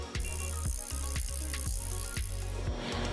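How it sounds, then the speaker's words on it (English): The rear wheel of a Juiced e-bike is worked free of the cassette with the derailleur pulled back, producing a steady run of ratcheting freehub clicks at an even pace under a constant mechanical hiss, close by, with no speech. "We will have to pull back the derailleur to get it off of your cassette to remove your wheel"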